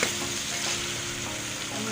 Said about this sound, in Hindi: ये आलू की भुनाई होगी अच्छी तरह।